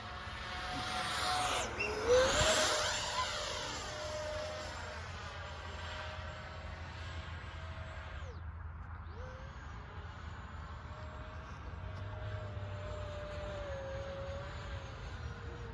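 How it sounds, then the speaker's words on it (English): A remote control F-16 model jet flies overhead at a field in Goochland, its high turbine whine holding steady for the whole stretch, swelling loudest early on and sweeping in pitch as the jet passes, with no talking. "we're just watching this remote control F-16 being flown by this guy right here in Goochland"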